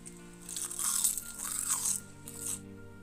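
Crisp crunching bites of roasted Gochang laver seaweed coated in perilla oil, a few close, sharp crackling bites in quick succession with brief pauses between.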